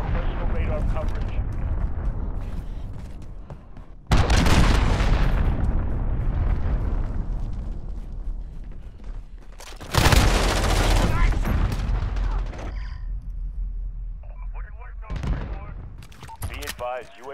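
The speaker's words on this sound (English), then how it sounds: "Allied cruise missile away" An allied cruise missile strike in a military video game lands as heavy, roaring explosions in bursts, with rumbling blasts and radio chatter between impacts.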